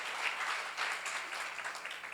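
A church seminar audience claps in a brief, faint round of applause, the clatter fairly even and distant.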